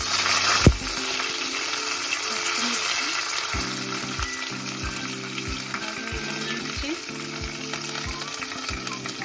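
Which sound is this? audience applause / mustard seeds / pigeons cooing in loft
mustard seeds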